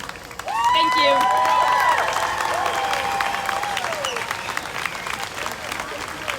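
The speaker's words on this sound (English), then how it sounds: "Another round of applause for a wonderful speaker." An audience breaks into loud, sustained applause for a speaker at a pro-Palestine rally, clapping and cheering swelling then slowly tapering, with voices calling out over it.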